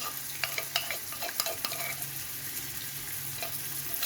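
About three tablespoons of garlic and ginger fry with onion in a pan for chana pulao, giving a soft, steady sizzle broken by occasional scraping stirs of a spoon, faint and close.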